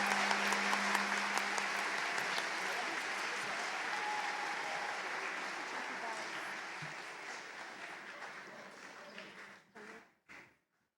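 A school audience applauds students at a lower school awards ceremony, dense sustained clapping that fades out toward the end, with a few last scattered claps before silence.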